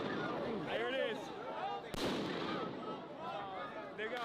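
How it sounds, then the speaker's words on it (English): Flashbang grenades go off at a street protest, one sharp broadband burst near the middle cutting through steady crowd noise and overlapping voices. "They're throwing flashbangs up."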